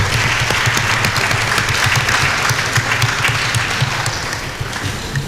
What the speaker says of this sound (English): please, with a round of applause, help me welcome to the high table, Leila Ali Othman